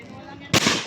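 A single sharp gunshot crack from a firing drill at a range, sudden and loud after a moment of low background noise, followed by a lingering echo.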